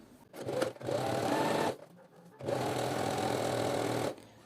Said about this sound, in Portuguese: E eu vou lá na máquina e vou costurar só de um lado aqui e só de um lado aqui.